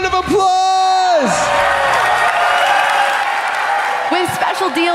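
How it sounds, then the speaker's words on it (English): A live game show audience bursts into loud, sustained applause with scattered whoops and cheers that fills several seconds, while a voice talks over the start and another speaks again near the end. "Give him a big round of applause!"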